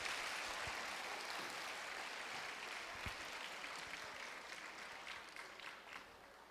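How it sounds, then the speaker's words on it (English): Sustained applause from a large audience after a music group performs, a dense wash of clapping with an occasional sharp clap, fairly distant and steady, easing slightly toward the end. "Let's give them another round of applause."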